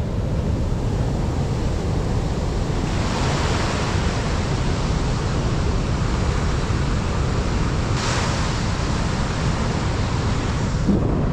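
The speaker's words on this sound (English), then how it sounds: "just watch out for these waves, because they can certainly get big and they can certainly wash you out to sea" Big ocean waves crash at Norah Head on the Central Coast in a loud, continuous roar of surf, with a few swells rising into fuller breaks along the way.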